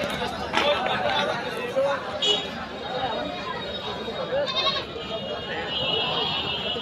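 Goats bleat at a large goat market in Baro Bazar, Kaliganj, southern Bangladesh, with a few short bleats rising from a constant crowd hubbub while someone talks nearby.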